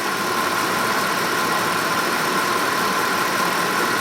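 A Ford car engine with an alternator that is not charging runs at a steady idle after a rev, a constant close mid-pitched hum with a high whine on top and no talking.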